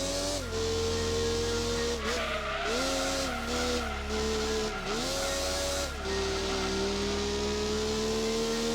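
Racing car engine from the PlayStation game Gran Turismo 2, said to resemble a Honda NSX, drones loudly and steadily with rising and falling pitch through gear shifts, with brief tire squeal.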